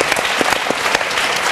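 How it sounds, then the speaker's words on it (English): Studio audience on a televised Irish chat show breaks into applause, a brief burst of dense, loud clapping from a crowd filling the whole moment. "Big clap, everybody."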